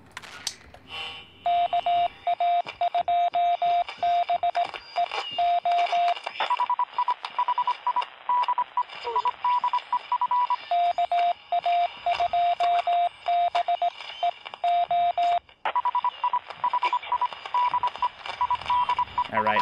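Morse code radio signal picked up in Fallout 4, a series of clipped electronic beeps in irregular dots and dashes over static, loud and upfront with no talk.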